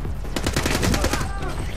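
Rapid automatic gunfire from an enemy blind firing in the shooter game The Club, a dense burst of close cracks lasting about a second before trailing off.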